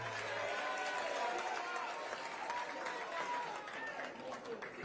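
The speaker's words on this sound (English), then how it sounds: "Another round of applause for Baba wa kila mtu." A large crowd applauds and cheers Raila Odinga at a Kenyan political rally, a dense, steady wash of clapping and shouting that stays loud throughout, with an amplified voice briefly over it at the start.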